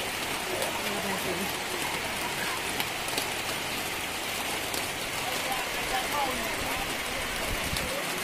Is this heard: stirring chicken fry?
no